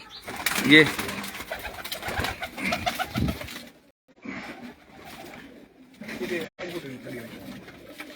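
Desi breed pigeons coo at a pigeon sale point of a Mianwali pigeon club, soft repeated coos close by under a voice talking through most of the stretch.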